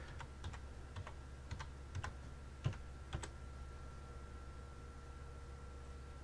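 A computer keyboard gives off a short run of sparse, separate keystrokes in the first few seconds, close and faint over a steady electrical hum, followed by quiet with no talking.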